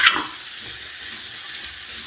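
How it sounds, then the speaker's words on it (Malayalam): Sliced onions and potatoes sautéing in a pan give off a steady, faint sizzle, opening with a brief clatter as they are stirred, with no talking. "ഇതിലേക്ക് നമുക്ക് സവാള, ഉരുളൻകിഴങ്ങ് ഇട്ട് ഒന്ന് വഴറ്റിയെടുക്കാം"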